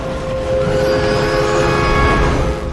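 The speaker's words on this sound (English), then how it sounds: "You can hear a train whistle." A steady train whistle tone sustains over continuous rumbling rail noise, loud and close, lasting the whole stretch without pause.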